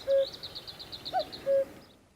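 Children's voices imitate a cuckoo call in an opera scene: two clear, sustained two-note cries, separated by a short pause, sung softly over a faint background.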